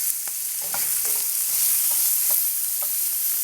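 Duck livers sizzling in a hot pan, a steady close frying hiss with occasional crackles and pops, loud and continuous without any talk.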